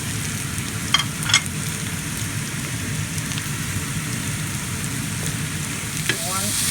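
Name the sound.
onions and mushrooms frying in a pan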